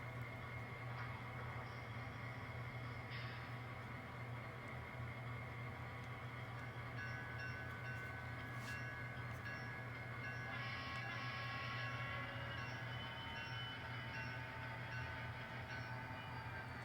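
An N scale model empty tank train runs steadily along its track, a continuous faint rolling hum and rattle with no breaks, heard alone without talk.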